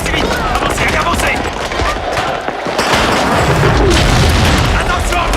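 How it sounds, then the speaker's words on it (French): Grenade blast in a war film, a loud rumbling explosion with crackling bursts that swell and linger, layered over shouting voices and battle noise. "Attention, grenade!"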